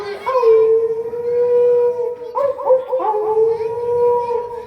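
A voice imitates a fox's howl: long, wavering tones held for several seconds, rising and bending, loud and close.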